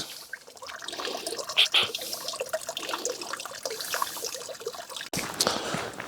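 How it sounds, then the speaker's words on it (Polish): Drinking water runs steadily from a small spring fountain in Switzerland, a close, continuous splashing trickle with a brief break near the end. "w Szwajcarii można pić wodę z takich źródełek"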